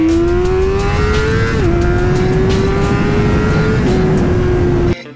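A 600cc sport motorcycle accelerates hard, its high-pitched inline engine screaming loud and close through steady revs, with brief dips at two gear changes before the sound cuts off abruptly.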